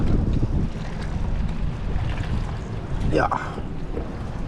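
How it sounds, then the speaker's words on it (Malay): Strong wind buffets the microphone outdoors near water by a boat, a continuous heavy rumble with a brief voice over it. "Angin pun duk main kuat sikit lah kan."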